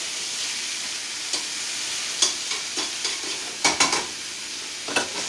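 Onions fry in a pan with a loud, steady hiss, broken by occasional sharp scrapes and taps as they are pushed around.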